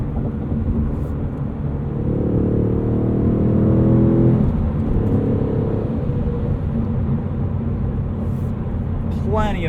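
Inside a 2022 Ford Mustang Mach 1, the 5-liter Coyote V8 drones steadily, swelling in a rising pull for a couple of seconds before settling back into a constant cabin rumble.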